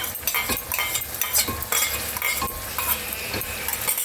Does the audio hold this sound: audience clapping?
no